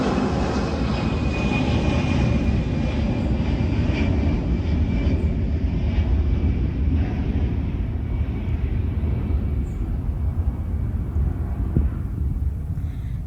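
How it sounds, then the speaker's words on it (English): Airplane flying over a garden, a loud, continuous broadband roar that stays steady for the whole stretch and gradually fades slightly toward the end. "The plane is flying over."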